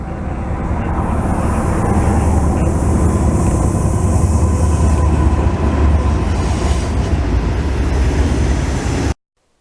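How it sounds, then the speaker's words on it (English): A southbound coal train rolls fast through a railway junction at Folkston, a loud, steady roar of wagons and wheel noise sustained throughout before cutting off abruptly. "Next up was a southbound coal train coming off of the Waycross district"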